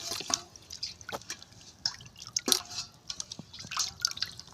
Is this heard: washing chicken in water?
yes